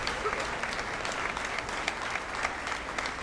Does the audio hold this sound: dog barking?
no